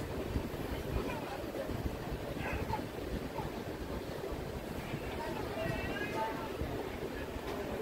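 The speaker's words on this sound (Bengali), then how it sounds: "আমাদের ট্রেন যাবে হাওড়া দিল্লি মেন লাইন ধরেই।" The 12023 Howrah-Patna Janshatabdi Express running on the Howrah-Delhi main line, heard from inside as a steady, broad rumble and rattle of the coaches with no pauses.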